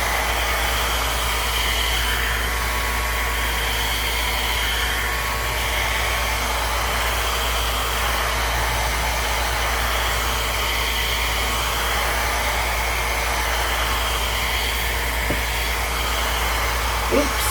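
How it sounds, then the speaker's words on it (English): Steady breath of air gently blown around the outer edge of a wet alcohol ink enso painting, a continuous soft hiss with low rumble, close and unbroken throughout. "just gonna quietly, gently blow around the outer edge"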